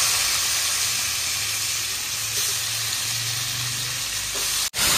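Ash gourd dropped into hot oil with bay leaf, dried chilli and cumin, hissing in a loud, dense, continuous sizzle that holds steady before a brief sharp dip near the end.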